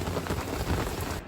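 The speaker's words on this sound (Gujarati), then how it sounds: "અચાનક વરસાદ આવી ગયો" Sudden heavy rain pours down at around 2 a.m. as a dense, steady hiss of drops on surfaces. It sounds close and continuous throughout, with no speech.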